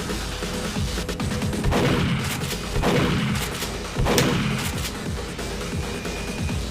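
Rockets fired at an Octobrain in Duke Nukem 3D: several heavy explosive blasts land roughly every second or two, each a sharp crack with a rumbling tail, loud and close amid a constant noisy background.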